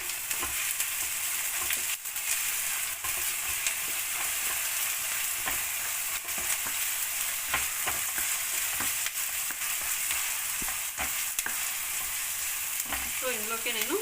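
Ginger garlic paste frying in a pan for egg noodles makes a steady, bright sizzle with a close crackle that stays level, with sharp stirring clicks at irregular intervals and no voices.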